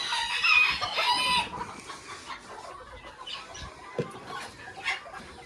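Chickens in a poultry yard, including Belgian d'Uccle porcelain and golden Sebright bantams, cluck and chatter nearby, with a rooster crowing loudly at the start over the busy flock noise.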